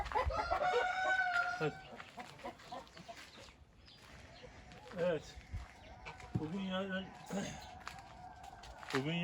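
Backyard hens cluck loudly while a rooster crows, the calls near and overlapping, with a person talking at intervals among the birds.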